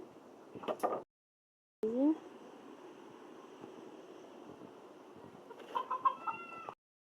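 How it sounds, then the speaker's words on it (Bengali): Village chickens cluck in short, scattered bursts at the start and again near the end, moderately close but fairly quiet, with a gap of near silence and a low background hum between the calls. "এই যে দেখে নাও, মুরগি আছে, বের হচ্ছে।"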